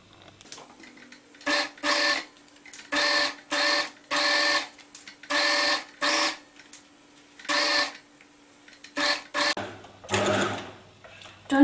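Sewing machine stitching the final line of a flat seam, running in a string of short, even bursts separated by brief pauses, close and clear with no talk.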